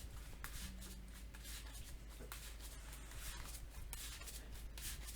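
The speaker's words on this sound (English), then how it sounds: "Once we shuffle our deck up." A deck of cards is shuffled during a tabletop play session of the Bond Legendary game, producing repeated soft riffling and rubbing bursts over a steady low room hum, fairly close and moderately quiet.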